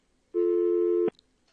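A single steady telephone line tone on a call-in radio show, held for under a second at even loudness, then cut off abruptly, with nothing else behind it.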